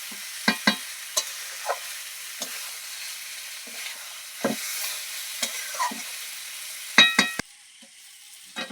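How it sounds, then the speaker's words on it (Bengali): Stuffed pointed gourds (potol dolma) frying in a home pan, stirred with a spatula: a steady sizzle runs underneath while sharp scrapes and knocks come in irregular bursts, close by, with no talking. "পুরো ভরে রাখা পটলগুলো দিয়ে দেবো এবার। ভালো করে নাড়াচাড়া করে নেব।"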